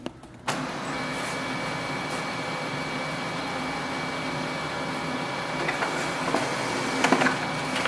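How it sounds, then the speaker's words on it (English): A Brother HL-L2370DW laser printer, connected by USB, starts up and prints a test page, giving a sudden whir followed by a steady mechanical hum with a faint high tone, close by and without speech. "Click on the print test page to see if our printer is working or not with the USB."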